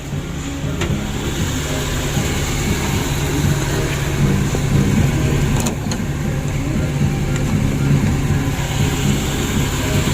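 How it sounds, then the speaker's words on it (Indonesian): Steady, close idle of a Suzuki Carry 1.5 fuel-injected engine with a running fault and a slightly rough, shaking run, humming evenly for about ten seconds with a few faint clicks and no speech. "Alhamdulillah untuk mesin dari Suzuki Carry ini injeksi sudah hidup ya"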